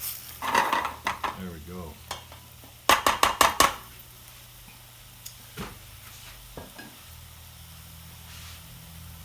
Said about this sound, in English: use your spatula to lift up any of that sticking paprika